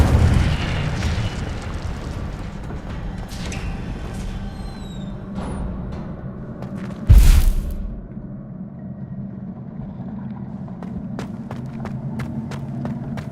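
An Incendio fire spell bursts in Hogwarts Legacy, a single loud whooshing blast around midway that rises sharply over a steady game ambience and quickly fades, with faint clicks and pops afterward.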